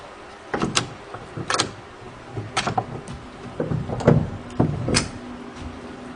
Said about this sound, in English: that door opened up by itself.